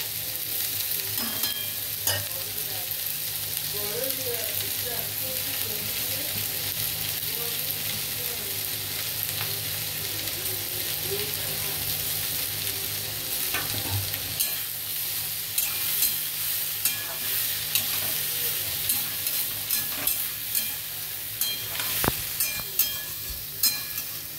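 Pieces of boneless fish go into a hot pan and are stirred, with a steady, close sizzle of frying and scraping stirring strokes that grow more frequent toward the end, with no talk.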